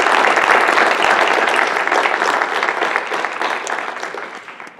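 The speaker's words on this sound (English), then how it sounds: "could we have a round of applause for both of those gentlemen?" Steady applause at a school board special meeting honoring two departing board members, a dense continuous wash of many hands clapping that fades gradually toward the end.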